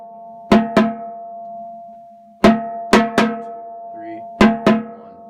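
Booming bass drums in a high school drumline cadence, the third drum's part, strike in paired hits, three pairs of two spread across the phrase, loud and close with ringing decay and a steady sustained tone underneath.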